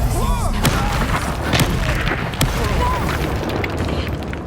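Fire spell blasts in Hogwarts Legacy erupt as several booming bursts amid combat clatter, with character voices heard over the effects.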